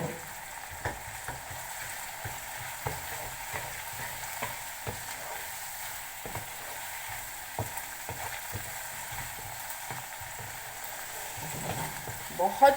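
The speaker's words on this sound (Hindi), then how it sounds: "अब इसमें ऐड करेंगे धनिया, सब्ज़ मिर्च।" Coriander and green chilies fry with potatoes for aloo bhujia in a pan, giving a soft, steady sizzle broken by light scrapes and stirring clicks. The sound stays fairly quiet and close.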